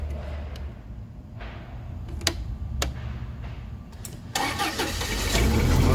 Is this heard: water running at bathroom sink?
no